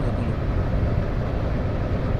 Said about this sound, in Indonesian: Nah, ini suara angin sih masuk nih di 120.